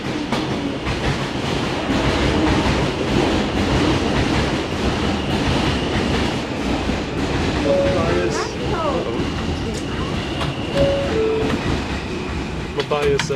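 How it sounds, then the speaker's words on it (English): A Manhattan-bound J local subway train runs through Brooklyn in New York City with a steady, loud rumble and rattle. Faint wheel squeals and a talking voice sit underneath. "This is a Manhattan-bound J local train"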